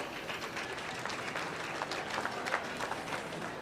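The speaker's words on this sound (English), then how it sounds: "give them a big round of applause" Audience applause at a swine show, a steady spread of clapping held at an even, moderate level from start to finish with no talk over it.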